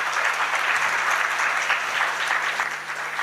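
Steady applause from a conference audience at a live international communications expert session, dense clapping filling the room at an even level throughout.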